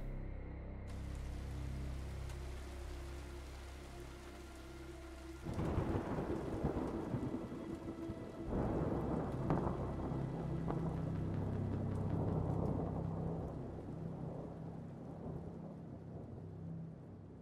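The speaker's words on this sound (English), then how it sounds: "rain pounding on the cracked windshield of my hover." Rain pounds on the cracked windshield of a crashed hover vehicle in the video game Hollowbody, with low thunder rumbling early and heavier cracks and rolls of thunder breaking in midway over the steady downpour; no talking.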